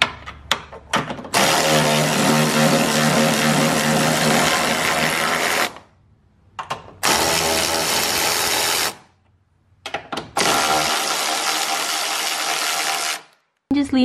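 A power tool removing coilover top mount bolts on a car being prepped for drifting, whirring loudly in three sustained bursts separated by short pauses and clicks.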